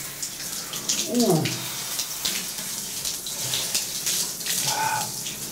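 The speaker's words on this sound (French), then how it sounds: "Je vais prendre une douche froide pour me donner de l'énergie." A cold shower runs with a steady broadband hiss of falling water, and a brief vocal exclamation rises near the start over the spray.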